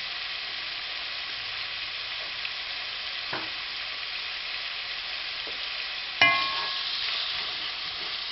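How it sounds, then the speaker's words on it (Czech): Cauliflower soup ingredients stirred in hot sunflower oil: a quiet, steady sizzle with a couple of faint scrapes, then a sharper clatter and a louder burst of frying near the end, close with no talk. "Tak a trošičku to poválíme tom rozehřátým omastkou. Já jsem použila olej slunečnicový"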